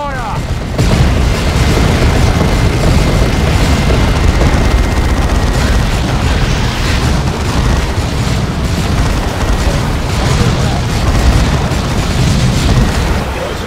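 Constant gunfire and booming explosions from a Dawn of War II battle form a loud, dense roar that fills the whole stretch without letting up, with shouted battle commands mixed in.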